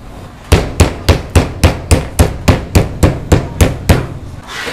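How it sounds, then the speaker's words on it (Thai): A steak mallet pounds pork neck steaks in a quick, even series of about thirteen sharp, loud thuds, close by with no talking. "นำมาทุบด้วยค้อนทุบสเต็กครับ ทุบให้ทั่วๆแบบนี้ทุกชิ้น"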